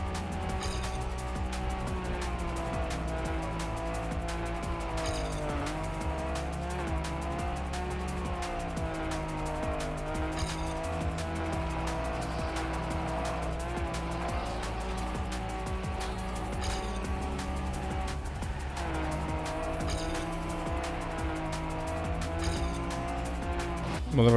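Rally car in the racing game Trackmania Rally sliding through corners, its engine droning steadily throughout with tire squeal and skidding noise layered over it, loud and continuous.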